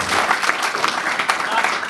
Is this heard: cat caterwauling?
no